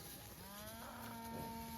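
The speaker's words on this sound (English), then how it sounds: "these are the spring calving cows" Cattle moo in a long, drawn-out call, with a second lowing voice overlapping, from a herd of spring-calving cow-calf pairs on a cold fall morning drive at a farm pasture, steady and fairly close.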